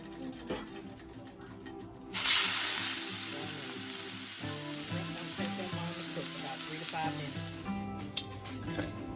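Deveined, washed shrimp dropped into hot grease, a sudden loud sizzle bursting up and then holding as a steady frying hiss, with low talk underneath.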